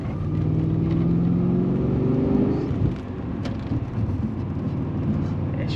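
A car fitted with a 3-inch exhaust accelerating, heard from inside as a loud, steady engine drone with rising pitch, then a brief drop at a gear change before the engine pulls again.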